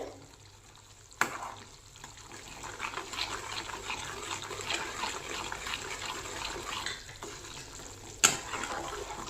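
Egg pickle masala fries in a pan with a steady dense sizzle, framed by two sharp utensil knocks against the pan, close up with no talking.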